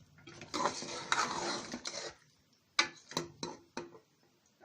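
Achari Aloo, a spicy potato bhujia, is stirred in a cooking pot with the stove off, giving a stretch of scraping and clattering followed by several sharp, separate clinks of the spoon against the pot.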